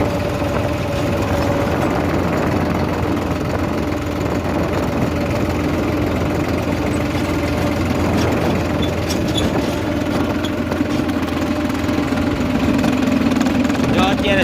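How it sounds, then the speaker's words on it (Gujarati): A tractor engine runs steadily in second gear while working a farm field, a continuous low rumble with a faint knocking texture, close by and unbroken throughout; a voice talks over it intermittently. "જો અત્યારે બીજા ગેરમાં હાલે ટ્રેક્ટર"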